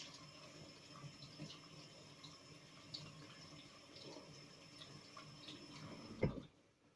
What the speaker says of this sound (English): we're going to make sure that this pear is nicely washed